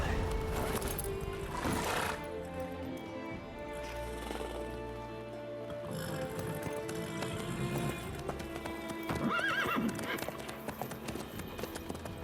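Horse hooves clip-clopping at a run in The Witcher 3: Wild Hunt, with a brief neigh and a voice talking over the steady galloping rhythm, plus soft background music.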